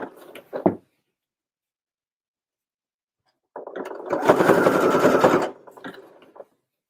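A sewing machine stitches fabric scraps in one steady run of close, loud mechanical whirring lasting about two seconds, with a brief rattle just before it and a long silence earlier.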